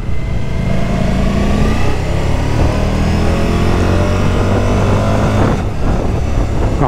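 A 2023 Suzuki V-Strom 1050 motorcycle engine revs hard up to the rev limiter, a loud, close, continuous rising roar with a sharp change near the end, with no talking.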